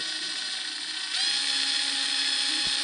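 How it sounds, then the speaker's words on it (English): A power drill bores a hole for a mirror mount on a Chevrolet Blazer, giving a steady high-pitched whine that strengthens partway through and holds close and loud. "so now we just got to drill the hole"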